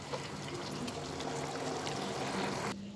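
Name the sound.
pouring mixer-rinse water into spiced meat in pan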